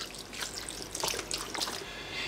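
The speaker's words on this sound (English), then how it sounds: "I'm gonna add in some liquid beef stock. I'm putting in 4 cups, or 1 liter." Liquid beef stock, about four cups, pours straight into a slow cooker for beef stew, a close trickling and splashing stream that rises and falls in short surges, with no talk.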